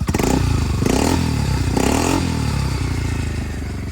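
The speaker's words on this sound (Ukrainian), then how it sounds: "Гарний приємний звук двигунчика" A 2019 Honda Forza 250cc fuel-injected scooter engine runs close up and is blipped in a few rising revs before settling, loud and alone with no speech.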